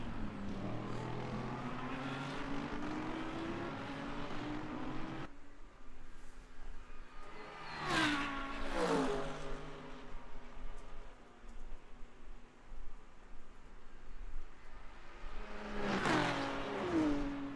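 Lamborghini and Lexus GT3 race cars at Le Mans in Le Mans Ultimate, engines screaming through gears, with sharp upshifts and two loud cars sweeping past close by in succession, no voices.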